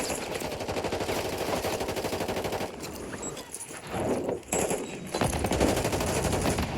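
Machine gun fire in a battle royale video game: loud, continuous rapid bursts that dip briefly midway and then resume at full intensity.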